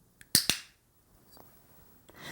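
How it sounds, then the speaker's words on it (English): Two sharp, loud clicks from a handheld dog training clicker in close succession, followed by a few fainter clicks, with quiet pauses between. "A clicker is a little device."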